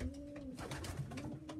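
A pigeon coos softly close by in a loft, a low droning coo that runs through the short moment alongside faint rustling.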